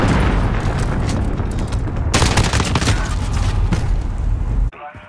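Missile strike explosions in Call of Duty Modern Warfare online multiplayer on the Atlas Superstore map: a loud, continuous roar of blasts and rumbling with a sharper burst midway, cutting off abruptly near the end.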